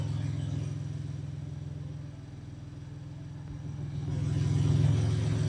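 A BMW M3 engine idles steadily while warming up to operating temperature, a low continuous rumble that swells slightly louder near the end, with no talk over it.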